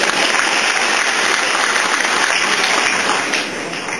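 An audience at a reception claps together in a dense, loud, continuous burst of applause that holds steady before easing off slightly near the end.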